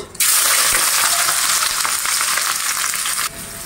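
Chopped onion, sliced green chillies, bay leaf, cinnamon, cardamom and peppercorns hitting hot oil, a sudden loud sizzle that bursts in, holds strong for about three seconds, then cuts off, with no talk.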